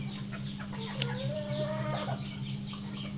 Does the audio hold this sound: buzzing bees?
no